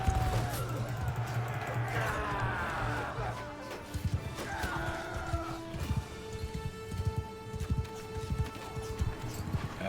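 Horse hooves clip-clop in a rapid, uneven gallop in a medieval battle video game, over clashing combat noise, shouts and a low music drone, with someone talking over it.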